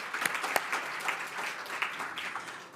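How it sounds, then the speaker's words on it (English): An audience at an annual spring celebration gala for a youth advocacy foundation applauds, a moderately distant, continuous spatter of many hands clapping with a few sharper nearby claps standing out. "we could clap for that"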